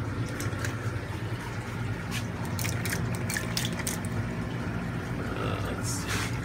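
Aquarium Co-op Easy Green fertilizer is pumped into a fish tank, giving a run of close, small drips and liquid splashes against a steady background hum, with faint talk now and then.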